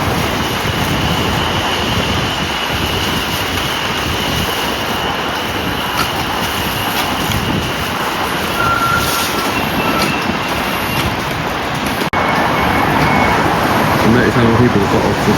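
A train pulls in at Beaulieu Park station, a steady rumbling roar of wheels and carriages with a faint high squeal, a continuous loud wash with a sharp click near the end.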